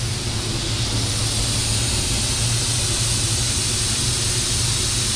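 A spray gun laying down a first coat of PPG waterbase paint reduced 20%, a loud, steady airy hiss that holds without a break for the whole stretch, close up and with no talking.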